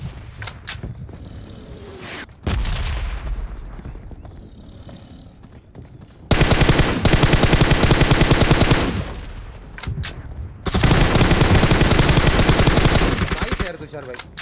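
Rapid automatic gunfire from the BGMI battle royale game in two long, loud, dense bursts, with quieter game sounds and brief talk between them.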